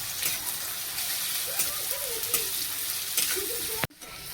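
Garlic dropped into a pan of hot oil while cooking small fish with ginger, giving a steady close sizzle with faint bubbling pops, cut off abruptly near the end.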